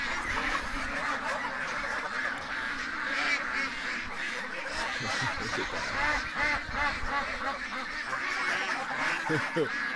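Canada geese honking down at a lake at night, a busy chorus of repeated honks and quacking calls at moderate distance, with some faint background voice or noise underneath.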